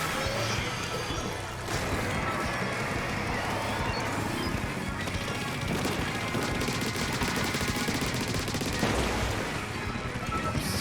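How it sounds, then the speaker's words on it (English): A Booyah Bomb special weapon goes off in Splatoon 3, a loud sustained barrage of crashing, splattering and popping game effects that fills the whole stretch with little variation. "I'm gonna booyah bomb it."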